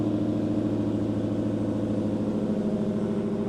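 Cadillac V8 engine fitted in a Yugo warms up at a steady idle, a low, even rumble with a pulsing harmonic throb, close and constant with no revving.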